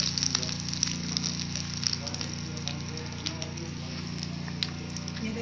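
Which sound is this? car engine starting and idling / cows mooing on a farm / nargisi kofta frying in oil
nargisi kofta frying in oil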